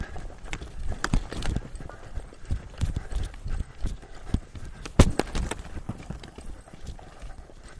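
Horse hooves loping during a groundwork training session, a steady three-beat rhythm of close, distinct thuds running throughout, with a handler speaking over them.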